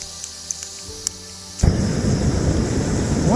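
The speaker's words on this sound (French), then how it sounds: "Donc, la petite cartouche de gaz, le petit réchaud." A small portable gas canister camping stove burner roars steadily and loudly after igniting partway through, a broad continuous rush at a wild bivouac campsite, with wind in the background.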